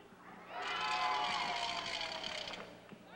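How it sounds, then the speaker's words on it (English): A team's supporters cheer in the background at a 1995 world taekwondo championship match in Manila: a faint, distant burst of raised voices that swells for about two seconds and then fades. "You can hear in the background the German team cheering for their bet."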